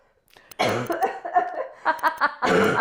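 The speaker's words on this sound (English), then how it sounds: "I'm gonna cough again." Several harsh coughs in a row, close and fairly loud, followed by a final burst of coughing.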